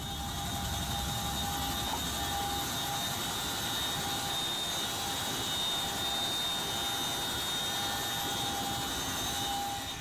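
A large twin-rotor military troop-carrying helicopter in flight, a loud steady roar of engine and rotor noise with a constant whine running through it, without any pause.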